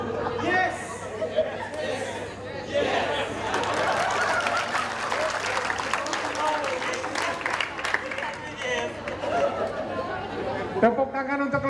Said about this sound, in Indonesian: Tepuk tangan untuk kelompok air